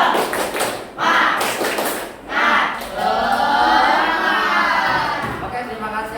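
A class of seventh-grade junior high pupils performs the rhythmic 'tepuk semangat' clapping chant, with bursts of group clapping in a set pattern followed by voices chanting together in unison.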